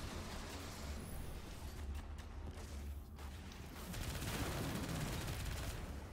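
Rapid submachine-gun fire in the shooter game Destiny 2, a continuous dense rattle of shots running loud and steady across the whole stretch with no talking.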